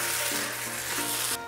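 Dakgalbi of chicken thigh, vegetables and sweet potato sizzles loudly in a hot oiled pan, a dense steady crackle close up, with faint stirring scrapes and no talking.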